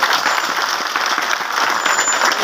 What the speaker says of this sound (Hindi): दोनों हाथों से ताली बजाकर स्वागत करें।